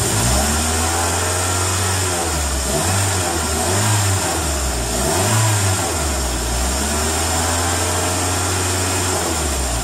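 A car engine with a P0136 oxygen-sensor fault is revved up from idle while being diagnosed. Its loud, close drone climbs and falls through a couple of throttle blips and keeps running steadily, with no talking.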